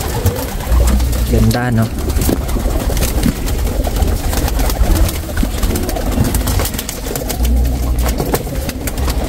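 Racing pigeons kept as breeders coo in low, throaty bursts, loud and close, while someone talks over them the whole time.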